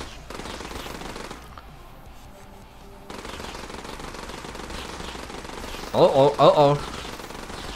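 Rapid machine-gun fire in the alien-bug shooter Dropship Down, a steady dense rattle running nearly throughout, with a player's brief voice and a louder burst near the end.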